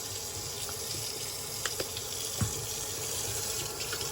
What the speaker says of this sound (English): And next I'm going to add some hot water, just enough to cover the skull